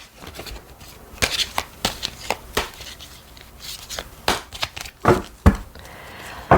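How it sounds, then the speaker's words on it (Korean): Tarot cards are shuffled and drawn from a deck in a quiet room, a series of close, crisp slaps and rustles in uneven bursts. "그렇다면 앞으로 어떤 마음의 변화가 있을지 카드를 뽑아보도록 할게요."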